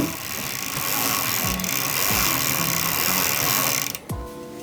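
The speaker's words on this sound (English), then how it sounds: "place the rag under the chain like this and pedal it backwards" The chain of a Strider 20x bike is pedaled backwards, giving a close, continuous ticking and whirring of the freewheel with a rag held under the chain, before it stops near the end.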